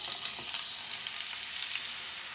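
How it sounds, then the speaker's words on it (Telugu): Onion pieces sizzle in hot oil in a pan, a bright, continuous hiss with scattered small crackles, close and fairly quiet, with no voices. "ఆయిల్ హీట్ అయ్యింది. దీనిలో ఉల్లిపాయ ముక్కలు వేసుకుందాం."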